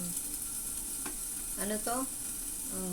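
Chinese cabbage soup ingredients are sautéed in hot oil, giving a steady, even sizzle throughout. Someone speaks briefly over the frying.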